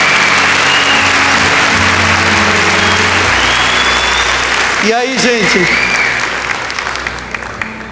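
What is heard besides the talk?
audience applause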